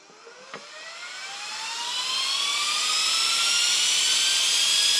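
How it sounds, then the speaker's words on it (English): Several RC fans switched on together with a soft-start, spooling up slowly from a low whir to a high, loud whine whose pitch climbs steadily, preceded by a brief click. "You can hear the slow spool up of these fans."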